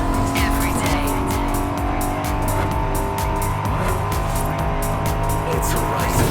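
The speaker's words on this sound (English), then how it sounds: "Keeping your engines revving all day, every day." An engine revs continuously while tires squeal in the racing video game Forza Horizon 5, loud and close throughout, with rapid rhythmic bursts and a dense roar layered under game sounds.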